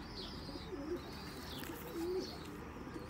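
Ferozpuri pigeons cooing in soft, low repeated phrases, with two clearer coos standing out against a steady background hum and faint higher chirps of other birds.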